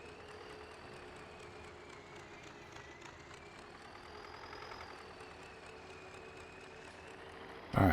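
An idling-to-driving tractor engine in Farming Simulator 19 drones steadily with a low rumble and faint knocking, close and continuous, swelling slightly midway, with a sharp burst at the very end.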